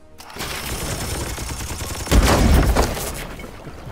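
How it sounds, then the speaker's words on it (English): A battlefield explosion with a burst of gunfire in Warhammer 40k: Chaos Gate - Daemonhunters: sustained crackling fire builds to a loud, booming blast midway, then tails off. "Nice little explosion."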